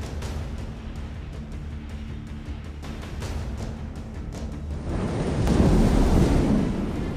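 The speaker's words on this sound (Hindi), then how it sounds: "ये शोर है उम्फान चक्रवाती तूफान का, जिसने आज पश्चिम बंगाल और ओडिशा को हिला दिया।" Cyclone Amphan lashes West Bengal and Odisha with heavy rain and fierce storm winds, a loud continuous roaring rush buffeting the microphone, swelling stronger with a deep rumbling surge in the final seconds.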